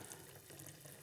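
Warm water is poured steadily into a container in a knife-finishing workshop, a faint continuous splashing flow with no voices.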